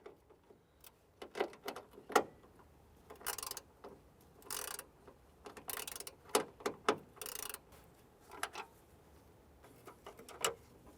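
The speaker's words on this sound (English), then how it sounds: "We'll go ahead and use our 8mm socket and our ratchet." A ratchet fitted with an 8mm socket loosens the screws on the high-mount third brake light of a 2005-2010 Chrysler 300, giving close, crisp runs of rapid clicking separated by short pauses.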